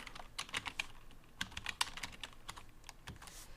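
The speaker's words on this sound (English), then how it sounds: "Type in grunge." Quiet, close keystrokes of a computer keyboard tap out a short search word in an irregular, fast rhythm of light clicks with no voice over them.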